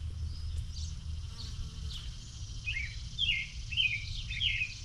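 Bees buzzing in a steady low hum close by, with birds chirping in short bursts in the background.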